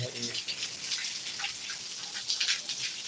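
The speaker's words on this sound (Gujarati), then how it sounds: "અત્યારે વરસાદ બપોરના આવે એ સારો કહેવાય" Midday rain falls steadily as a broad, even hiss with scattered drops, and a voice is briefly heard at the start.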